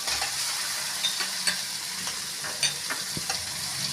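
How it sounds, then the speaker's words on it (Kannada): Chopped tomatoes are added to green chillies frying in a pan, giving a steady close sizzle with scattered pops and light scraping stirs throughout, with no voices. "ಇವಾಗ ನಾನು ಮತ್ತೆ ಟೊಮೆಟೊ ಹಾಕ್ತೀನಿ"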